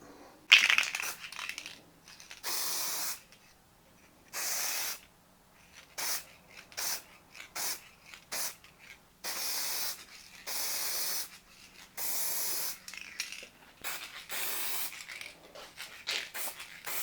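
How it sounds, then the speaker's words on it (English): Repeated hissing bursts from an aerosol spray can applying mirror-finish paint to a Porsche 928 part, about a dozen short sprays of one to two seconds each separated by brief pauses, close and moderately loud. "I'll come around the other side and spray there."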